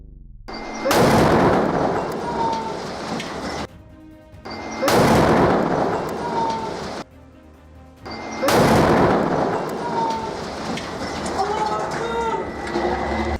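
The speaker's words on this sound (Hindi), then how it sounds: "यहां पर अल कासिम के लड़ाकों ने केंद्रीय बेत लाहिया में आईडीएफ के मिरकावा टैंक पर यासिन 105 गोले" Three loud, booming blasts from Yasin 105 rounds fired at a Merkava tank in central Beit Lahiya, Gaza, each followed by a rumbling tail and separated by short quiet gaps.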